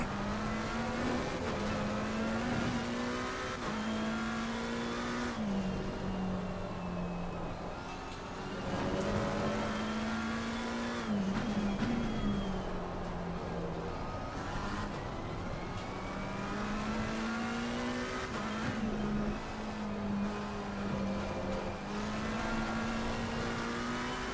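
A race car engine drones continuously in Assetto Corsa Competizione at Snetterton, its pitch rising and falling through gear changes and throttle lifts while chasing a nearby car, loud and steady throughout with no talking.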